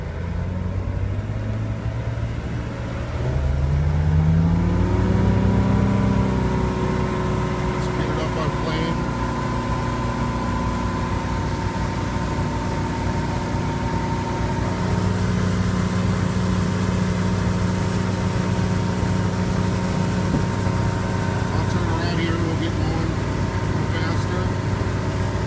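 A 1992 Spectrum 1950 19-foot open bow boat with a 4.3 six-cylinder engine powers up onto plane, its loud steady engine drone rising in pitch over the first few seconds and then holding a strong sustained roar under a spoken voice.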